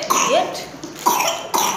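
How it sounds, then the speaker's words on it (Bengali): Several harsh coughs close by, three or four bursts in quick succession, each ending in a short hacking rasp. "কাশি হচ্ছে যে"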